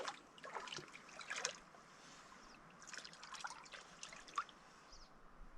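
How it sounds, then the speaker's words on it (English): A pet urinates into lake water at a remote wilderness camp during spring ice-out, making a faint, soft trickle and dribble that stays quiet throughout, with brief drips against an otherwise still outdoor background. "Well, pee in the water."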